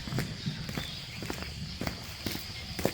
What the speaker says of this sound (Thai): ผมจะเดินไปไกลๆนะครับ